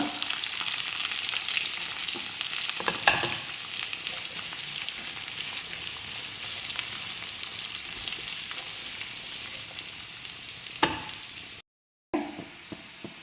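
Chopped onions sizzle in hot oil with green chillies and curry leaves for a Kerala prawn roast, a steady close crackling hiss with a couple of sharp stirring clinks and a brief dropout near the end.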